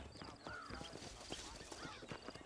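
Hooves clip-clop from a horse in the Red Dead Redemption video game, steady and fairly close, with a brief whinny and other game sounds around them.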